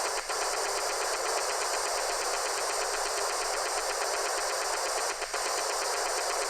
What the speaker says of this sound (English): It's largely white noise from the radio background.